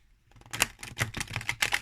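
A new deck of oracle cards is shuffled by hand, giving a quick series of crisp riffling flutters and soft taps, close and clear after a brief quiet start.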